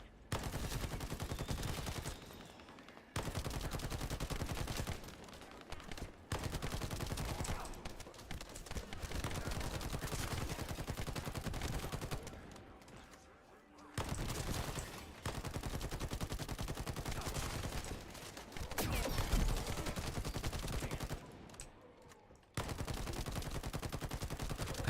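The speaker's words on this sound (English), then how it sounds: "I do love this machine gun, but I may need to adjust and try a different primary" A machine gun fired in the video game The First Descendant, loud dense automatic bursts lasting several seconds each, broken by short pauses and carrying on through the stretch.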